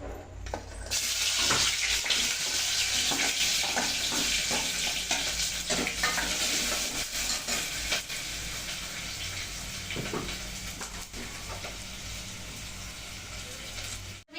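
Onion fries in a pan with a loud, steady sizzle and crackle and intermittent stirring scrapes, easing slightly in volume toward the end; no voices.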